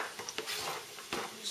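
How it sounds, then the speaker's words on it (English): Onions being stirred in a cooking pot, giving a few faint, quick scrapes and light clinks with soft rustling between them. "So we'll put these in our pot. I'm going to stir them up."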